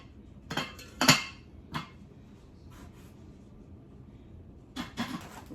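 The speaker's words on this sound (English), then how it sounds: "next one we have another frying pan, just a smaller version" Metal clinks and clatters as a frying pan is unpacked and handled, a few sharp knocks in quick succession followed by quieter rustles and a final pair of clanks, close and alone.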